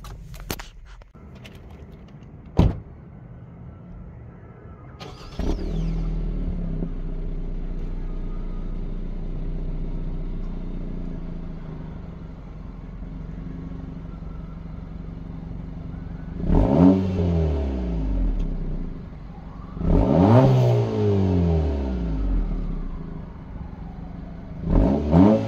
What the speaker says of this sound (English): I'm gonna do like a startup and give it some revs for you.